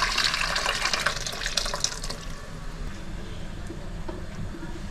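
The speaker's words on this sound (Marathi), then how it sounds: "ह्याच्यात पहिला आधी थोडा वरचा पाणी ओतते त्याच्यामध्ये आणि सांभाळून ओतायचा." Cooking water from boiled sprouts is poured into misal masala, a close, steady splashing stream that is strongest early on, then eases into a softer trickle.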